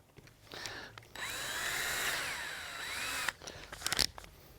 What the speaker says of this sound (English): I'm going to use a wood drill, a small one.